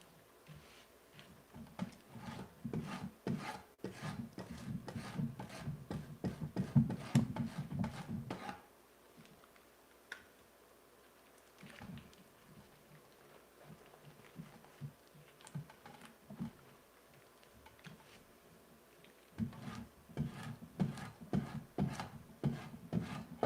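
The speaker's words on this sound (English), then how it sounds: "I'm going to have to come back and scrape this again, probably multiple times, to get all the grain off." A wooden chisel handle being scraped by hand to take off the grain, heard as repeated close, dry rasping strokes in rhythmic bursts, with quieter pauses between sessions.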